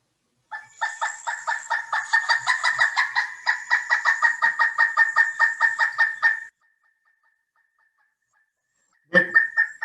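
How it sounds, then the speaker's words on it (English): A recorded pileated woodpecker call plays back as a rapid, even run of loud, ringing notes for about six seconds. After a short silence, another brief burst of calling follows. "And then she's got the pileated that she's going to play the call for you here."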